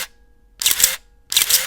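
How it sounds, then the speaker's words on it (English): A Contax mechanical film camera fires its shutter twice, each release a crisp, close mechanical clack with a short whirring tail, separated by about half a second of quiet. "listen to the shutter sound."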